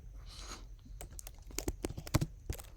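Fast clicking keystrokes on a computer keyboard as a web address is typed, a quick run of close, crisp taps growing denser toward the end, heard alone with a faint breath or rustle at the start.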